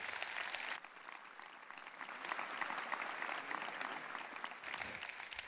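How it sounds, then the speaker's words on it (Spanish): Church congregation applauding during a Spanish-language sermon, a dense, steady wash of many hands clapping that holds for several seconds at moderate loudness with no voices over it. "si le va a aplaudir, apláudale fuerte a nuestro Señor Jesucristo"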